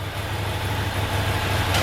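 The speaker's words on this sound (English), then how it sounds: "now with the engine running, side stand down, and bike in neutral" A Ducati Monster motorcycle engine idling in neutral with the side stand down, a steady, even low rumble heard up close and alone, without speech.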